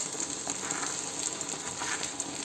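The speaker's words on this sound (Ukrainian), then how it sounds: "Зараз ще вимішую. І все тушу на олії." Mushrooms stew in oil in a pan, giving a continuous soft sizzle and hiss at moderate level with faint stirring scrapes, no voices.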